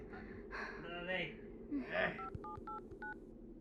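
A phone is dialed with a quick series of distinct DTMF beeps, each tone short and evenly spaced, following breathy gasps and a strained voice under tension.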